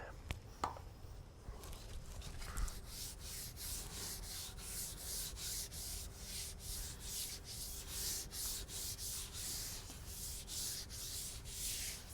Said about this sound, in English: Rubbing it in with my gloved hand.